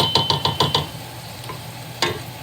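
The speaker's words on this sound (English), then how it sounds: "You just stir it around." A wooden spoon stirs chicken paprikash in a pot, five quick rhythmic scrapes and knocks over a soft sizzle, then a pause and one more scrape near the end, close and clear.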